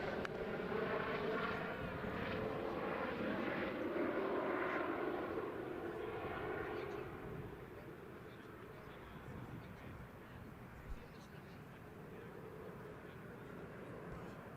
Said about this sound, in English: Oh, that was a helicopter that was going over,